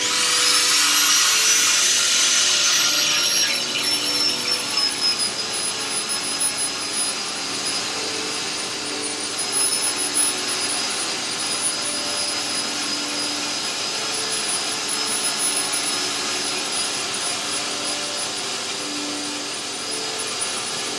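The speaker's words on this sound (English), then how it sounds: "Keep a strong, firm grip on the wire wheel, but don't force it down into any position." Wire wheel power tool stripping rust from a WWII ship's steel hull surface, a loud steady high-pitched whine with grinding hiss that runs continuously and close up, with no talk.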